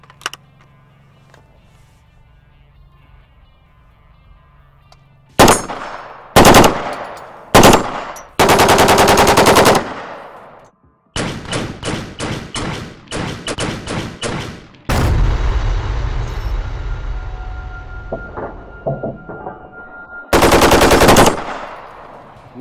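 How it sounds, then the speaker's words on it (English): B&T APC556 rifle firing full auto outdoors, several loud bursts of rapid shots at a slow cyclic rate, separated by quiet gaps, with one long rumbling stretch between bursts. "Time to try a little bit of full auto here."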